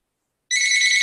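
A phone ringtone starts abruptly after a short silence and sounds as a steady, bright electronic ring that continues to the end.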